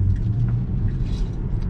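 A Tesla electric car surging forward on autopilot, a short low rumble of road and motor noise rising briefly, close and fairly loud with no voices.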